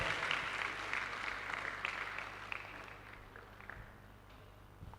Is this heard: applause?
yes